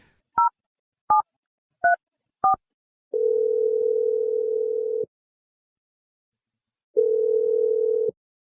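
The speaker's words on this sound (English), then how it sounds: "Let's dial it." Four quick touch-tone dialing beeps, then a telephone line ringing out to a cell phone in two long, steady electronic tones separated by silence.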